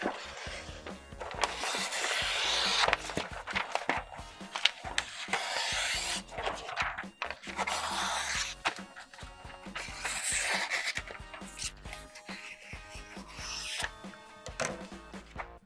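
A reversible sequin sublimation face mask being trimmed, with close rustling and snipping rubs coming in uneven bursts over background music.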